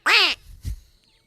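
A single loud duck quack sound effect, sharp and close, followed by a short low thump and then near silence.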